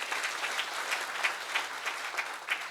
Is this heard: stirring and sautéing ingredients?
no